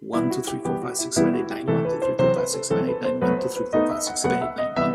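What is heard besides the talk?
No everyday noises stand out.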